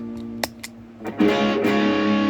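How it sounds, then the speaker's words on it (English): Electric guitar through a Swinger box fuzz pedal into a gainy bench amp: a few muted plucks, then a loud sustained buzzing chord that rings on, thick and saturated, with no talking. "I got a Swinger box fuzz over here, giving me some distortion in the front end of it."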